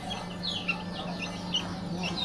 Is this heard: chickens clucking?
yes